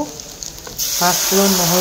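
Panch phoron spices and garlic hit hot oil for a veg thali with a sudden loud, close sizzle that starts partway through and keeps crackling steadily.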